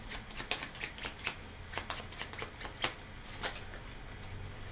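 Cards from the board game Viscounts of the West Kingdom are shuffled by hand, a quiet close run of rapid riffling flicks and taps in an uneven rhythm.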